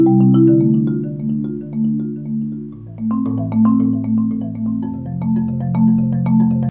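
A solo marimba piece rings out with mallet strikes on bright wooden bars, layered low rolled notes sustaining beneath busier upper figures, played alone and fairly loud.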